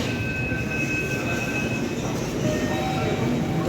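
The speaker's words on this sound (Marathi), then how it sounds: "ट्रेनच म्हणतोय, मेट्रो येणार आहे." Metro train arriving at a platform of a Pune metro station, a steady low rumble with faint high squealing tones from the wheels, continuous and moderately close throughout.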